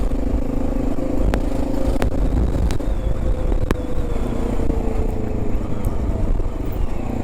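A Honda XR650L motorcycle engine running while riding on city streets, a steady low rumble with road noise and a few sharp clicks and rattles, fairly loud and continuous without talking.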